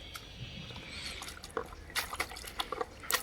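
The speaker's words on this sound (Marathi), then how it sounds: "इथं आता मम्मी मेथी धुवून घेते" Bunches of fenugreek are washed in water with light splashing, dripping and sloshing. A few sharp wet bursts rise over a faint background.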